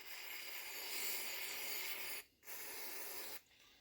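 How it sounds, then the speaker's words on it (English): Carb cleaner sprays from an aerosol can into a lawnmower carburetor bowl in a steady close hiss, broken by a brief pause before a second burst that cuts off abruptly. "now what we're going to do is get our carb cleaner and spray it in the bowl"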